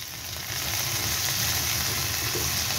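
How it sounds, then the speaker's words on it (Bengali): Dried and green chilies fry in a pan of hot oil for a mashed salted hilsa dish, giving a loud, continuous sizzle that swells slightly after the start and holds steady with no talking. "একসঙ্গে সুন্দর করে ভেজে নেব।"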